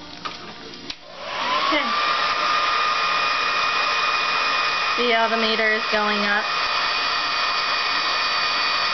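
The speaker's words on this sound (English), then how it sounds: "we're trying it out with a hair dryer" A hair dryer blows steadily on a homemade anemometer, a loud constant whir with a high whine that starts after a brief pause and holds throughout, with rattling spins midway and a voice speaking briefly over it.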